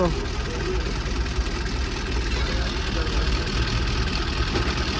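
A car engine idles steadily and fairly loud at a crowded roadside farmers' gathering, a continuous low rumble with background voices mixed in.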